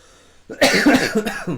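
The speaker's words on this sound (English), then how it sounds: "I can't get rid of this cough for like 2 weeks or something" A single harsh, close-up allergy cough bursts out after a near-silent start, with a rough throaty tail and a second smaller hack near the end.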